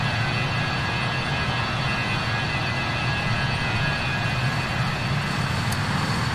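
BAe 146 jet engines in a flight simulator game give a steady, loud, broadband roar that holds unchanged throughout, with no talking.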